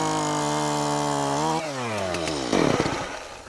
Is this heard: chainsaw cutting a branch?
yes